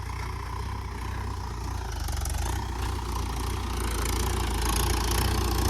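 Mahindra 415 tractor with a dozer attachment, its diesel engine running steadily close by, a deep continuous chug that grows slightly louder, with no talking.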